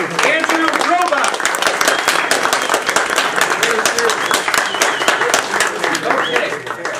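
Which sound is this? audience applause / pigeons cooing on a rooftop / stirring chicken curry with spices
audience applause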